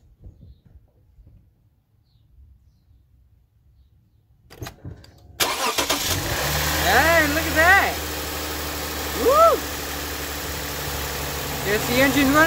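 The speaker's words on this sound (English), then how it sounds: "Alright, you're going to see it start up." Near-silence, then a click and an engine cranks and catches, settling into a loud steady idle with rising and falling whines and a low hum.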